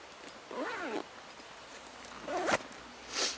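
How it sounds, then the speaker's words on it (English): Zippers on the front panel of a Fjallraven Stubben backpack being drawn in two quick, close pulls with a pause between, followed by a short handling rustle. "the front panel has dual zippers around the top and the side"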